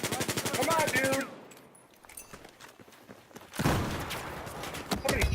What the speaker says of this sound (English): Somebody's shooting right behind me.